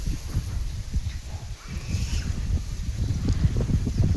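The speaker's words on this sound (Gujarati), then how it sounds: "એટલો મસ્ત ઠંડો ઠંડો પવન આવે છે અગાસી ઉપર" Cool evening wind sweeping across a village rooftop terrace, heard as a steady, low buffeting rumble against the microphone that carries on through the whole stretch with no talk.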